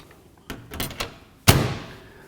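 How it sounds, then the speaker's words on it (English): A furnace door being fitted back onto a home heating unit with a Honeywell PopUP air filter: a few light knocks and rattles, then one firm, close thud as the panel seats, with no talking. "I'll put the door back on."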